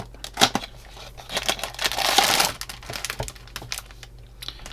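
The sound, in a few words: opening Dune ornithopter model kit packaging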